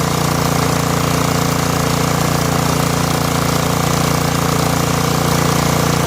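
A Snapper rear-engine riding mower, left sitting for eight years, runs at a steady, loud idle with a continuous droning rattle from close by, free of voices.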